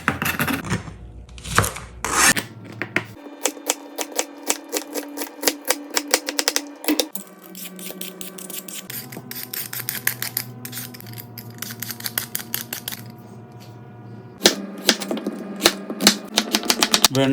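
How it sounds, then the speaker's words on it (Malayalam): Okra and potatoes being cut into small pieces with a knife on a board: rapid, steady tapping chops in long runs, briefly pausing and resuming, loud and close with no talking. "വെണ്ടയ്ക്കയും ഉരുളക്കിഴങ്ങും ഇതാ നല്ല അടിപൊളിയായി ചെറുതായി കട്ട് ചെയ്ത് വെച്ചിട്ട്"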